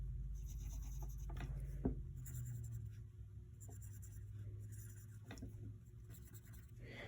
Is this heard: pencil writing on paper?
yes